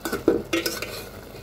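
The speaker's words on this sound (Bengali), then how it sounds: "এই তো আমার স্পাইসি কোরিয়ান নুডলস রান্না করা হয়ে যাচ্ছে" Spicy Korean noodles are stirred in a pan, with a few quick scraping clinks of a utensil against the cookware over a faint sizzle.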